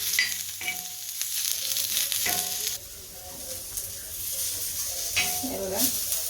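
Masala spices frying and being stirred in a pan at home, crackling sizzle broken by scraping spatula strokes and a few clanks of utensil on metal, with a voice faintly present at moments.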